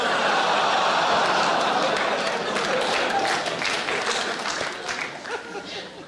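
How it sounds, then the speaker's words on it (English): Comedy club audience applauding and laughing after a stand-up joke, a broad wash of clapping that swells at first then gradually fades, with scattered chuckles mixed in. "Applauding that, you should be ashamed of yourself"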